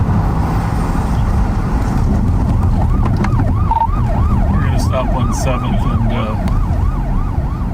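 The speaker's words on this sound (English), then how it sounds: "That's our siren" A police car siren wails in a steady, rapidly repeating up-and-down pattern over loud road and engine rumble, with a voice talking over the top.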